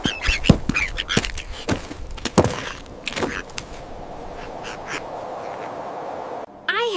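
A duckling quacks in a series of short, sharp calls in a snowy pond setting, close and fairly loud, fading into soft background noise.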